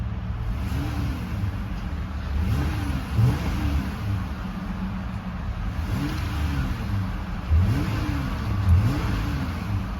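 The mid-pitched 3.6 V6 engine of a 2025 Jeep Gladiator High Tide idles with a low rumble, then revs up to a limiter near 3,000 RPM and falls back in a few short bursts. No one speaks.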